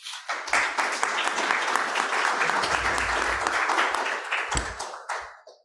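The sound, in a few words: applause welcoming a speaker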